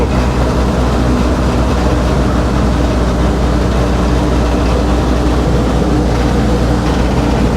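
A 1949 Willys engine idles close by with a steady, continuous low rumble and mechanical hum, holding an even note throughout with no talking over it.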